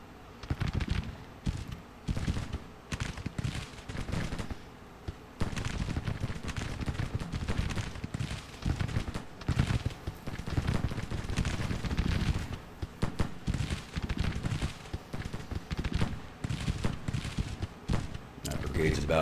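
Volleys of Civil War-era 1-pounder cannon and massed musketry in the strategy game Grand Tactician: Civil War, dense rapid popping and booms continuing throughout, with someone talking over the gunfire.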